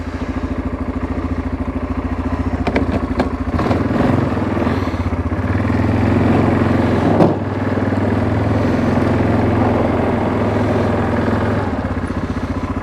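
A 2002 Yamaha Kodiak 400 ATV plows light snow, its single-cylinder engine droning loudly and steadily up close with a rhythmic low thrum, a brief rev and some clatter partway through.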